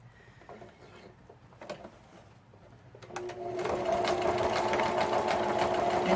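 A sewing machine zigzag stitching around the edges of a fabric scrap starts up after a few quiet handling noises, then runs in a steady, close, rapid mechanical whir.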